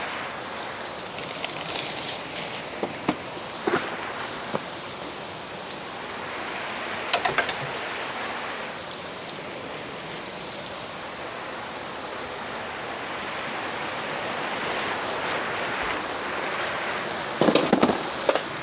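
Heavy rain pounding on a small hut, a constant broad hiss of downpour with occasional louder drips and knocks breaking through.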